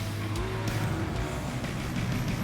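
A Naked Evo race car accelerates hard off the start gate, its engine roaring close and loud. Faint tire noise runs beneath the steady drone.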